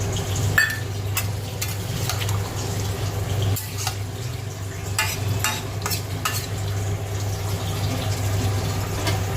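A pan of duck-egg and cauliflower curry, salt just added, bubbles at a steady simmer while a spoon scrapes and stirs in short, irregular strokes close by. No one speaks.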